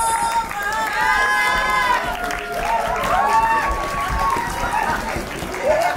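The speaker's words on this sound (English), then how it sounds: "But give her a round of applause" A crowd at a voguing ball applauds and cheers a Butch Queen Vogue Fem contestant, with overlapping whoops and shouts. Voices speak over the noise across the whole stretch.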